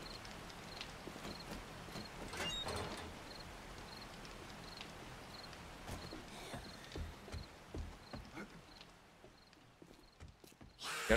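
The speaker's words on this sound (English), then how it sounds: "I hear footsteps." Footsteps in the zombie survival game 7 Days to Die make a steady run of regular thuds and clops over faint ambient noise, with no talking.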